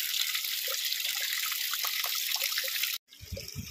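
Continuous hissing flow of water from a borewell in Yadrami taluk, Gulbarga, even and close, cutting off abruptly near the end before some low muffled sounds.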